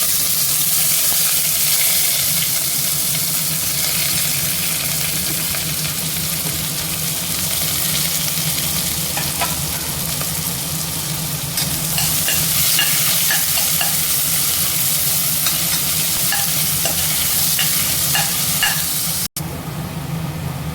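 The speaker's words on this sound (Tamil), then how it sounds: "எண்ணெய் காஞ்சிருச்சு. வெங்காயம் சேர்த்து" Onions sizzle steadily in hot oil, a loud, continuous frying hiss with scraping stir strokes that grow busier midway, ending in a brief cutoff near the close.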